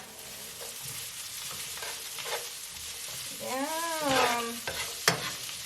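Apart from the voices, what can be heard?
chopped celery sautéing with onions in a pan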